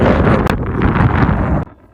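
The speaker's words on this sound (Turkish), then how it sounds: "burada aşırı rüzgar sesi olduğundan dolayı mecbur burayı kapatmak zorunda kaldım" Heavy wind buffets the microphone in loud, rumbling gusts with a brief sharp crackle, then drops off suddenly.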